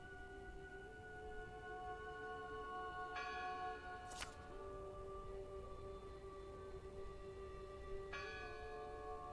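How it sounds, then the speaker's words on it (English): Church bell ringing in the horror game Draugen, a steady sustained tolling with two distinct strikes spaced several seconds apart over a low windy background hum, alone without speech. "Listen! The bell! They're still in there!"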